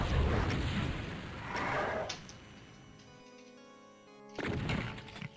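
Chain gun and rocket fire in DOOM, battling a Revenant: dense rapid gunfire bursts with heavy booms, then a lull with ringing tones before another loud blast near the end.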